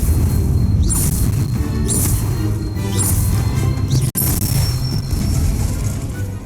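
The Incendio fire spell is cast again and again in Hogwarts Legacy: about four sharp fiery bursts with whooshes come at roughly one-second intervals over a rumbling game background.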